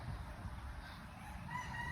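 A rooster in a backyard rooster pen sounds faintly in the distance, a soft call over low outdoor background noise.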